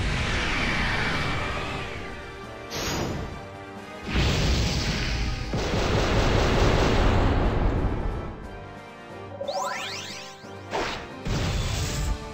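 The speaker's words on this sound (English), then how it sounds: "Alright, we'll do Omega Blast." Omega Blast attack in a Digimon video game: a series of heavy crashes, booms and sharp impacts with rising whooshes and pauses between, loud throughout with no talking.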